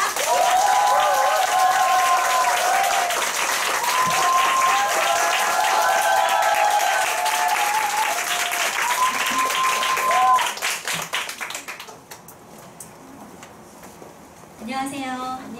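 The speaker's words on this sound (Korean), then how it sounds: "큰 박수 부탁드립니다" An audience at a business group meeting bursts into loud, sustained applause with cheering voices and music underneath, then the clapping fades out toward the end and a speaker begins talking.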